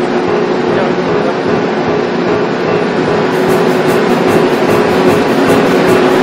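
Steady, dense mechanical roar of rail grinding along a subway track at night, loud and continuous throughout with a constant hum underneath.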